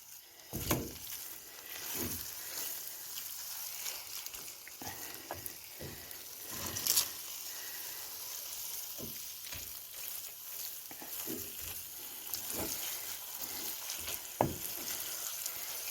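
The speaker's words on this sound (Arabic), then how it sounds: "يعني ابقى احرك بيها فد ربع ساعة الى ان تصير عندي يعني علاتشية وتلم" Carrot halwa thickens in a pot while being stirred: a continuous bubbling sizzle with repeated scraping strokes and occasional soft knocks, steady and close throughout.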